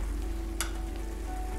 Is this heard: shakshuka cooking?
yes